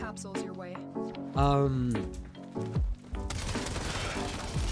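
Aeolak weapon firing in Warframe, set up with a Toxin build and alternate fire: tonal game sounds give way to a dense, sustained rattle of rapid shots filling the last stretch.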